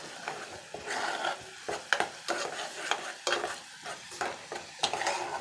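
Onions fry in peanut oil for a country chicken curry, a steady close sizzle broken by repeated scrapes and clinks of a spoon stirring against the pan, with no talk.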